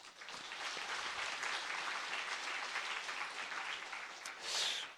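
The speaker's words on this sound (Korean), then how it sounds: "우리 사랑하는 김태호 집사님, 또 간병하셨던 우리 강선미 권사님에게 큰 박수를 보내드립니다." Sustained, even applause from a church congregation during a Sunday service, filling the room at moderate loudness with a brief louder swell near the end.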